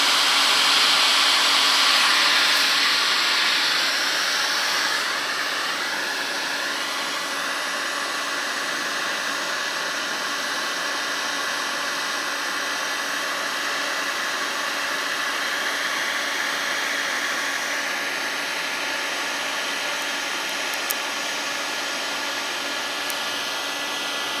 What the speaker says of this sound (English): Got it on number 3, blowing out hot air.